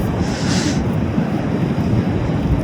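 Sea waves wash onto a beach in a quiet Australian village, a steady close wash of surf with wind rushing across the microphone and no voices.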